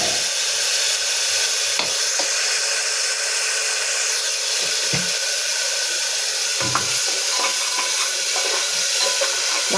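Masala spice paste fries in a pan for a yogurt chicken curry, giving a steady, broad hiss throughout with a few faint clinks and scrapes mixed in.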